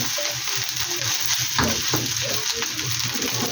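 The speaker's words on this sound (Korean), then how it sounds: "그러면 햄이랑 이렇게 볶아 먹어도 괜찮아요." Ham is stir-fried in a pan, making a dense continuous sizzle with the rough scraping of a utensil pushing it around, close and fairly loud for a few seconds.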